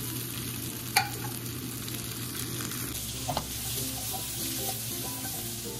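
Asparagus sizzles steadily in a hot pan with garlic, a continuous close frying hiss with a couple of brief stirring clinks, no voices.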